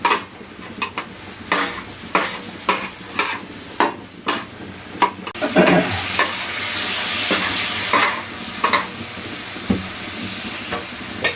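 Spicy keema masala is stirred and fried on a tawa, with a steady sizzle under repeated sharp scrapes and clinks of a spatula against the pan, close and loud with no talking.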